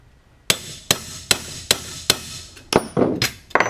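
Hammer striking a punch to set a rivet on a C3 Corvette seat track, about eight sharp, close metallic blows in a steady rhythm that quickens slightly toward the end.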